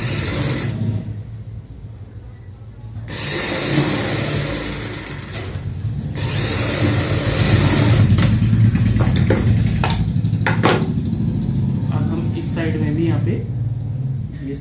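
A sewing machine stitching a handmade fabric travel bag: loud, continuous mechanical whirring runs in long bursts with a short pause early on, close to the listener, while a voice talks over it.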